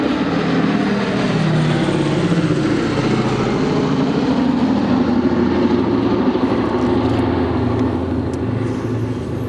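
A Boeing B-17 bomber flying at an airshow, its piston engines giving a continuous loud, droning roar with a steady throb that fades slightly toward the end.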